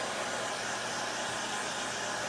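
A hair dryer blows steadily on freshly painted chalk paint faux gift boxes, a close, continuous broadband whoosh that holds an even level throughout with no voices.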